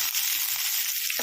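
Tempering spices crackle in hot oil for an ivy gourd and sesame chutney, a brief, steady bright sizzle.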